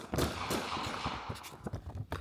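Shots from a Glock 45 MOS pistol at a shooting range come as a quick string of sharp, cracking reports, heard at a fairly low level with no talking.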